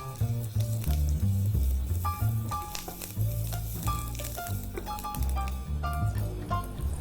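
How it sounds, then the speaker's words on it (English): Mustard seeds, red chilli and curry leaves sizzling in hot oil for South Indian rasam tempering, a steady close crackle and spluttering with scattered pops throughout, no talk. "Now that our mustard seeds are spluttering, adding the red chilli, all the curry leaves"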